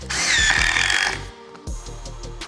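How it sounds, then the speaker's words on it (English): Power drill driving screws into an Ekoduro board planter, a loud whirring burst for about a second, a brief pause, then a shorter second run as the screw seats. "While I'm screwing in these screws in the middle area, I want to make sure that I can reach"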